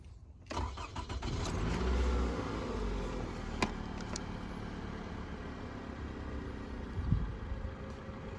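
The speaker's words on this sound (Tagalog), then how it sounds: "papaanda rin ko itong makina" A car engine in a mechanic's workshop cranks and catches after a short silence, surges briefly, then settles into a steady idle, with a few clicks and knocks over the quiet running.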